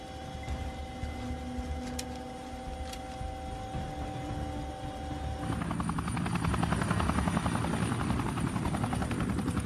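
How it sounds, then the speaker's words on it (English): A Chinook helicopter in flight near RAF Aldergrove gives a steady, loud rotor drone with a pulsing beat that thickens and grows louder partway through, with no talk over it. "After a series of short flights, the Chinook returns to RAF Aldergrove."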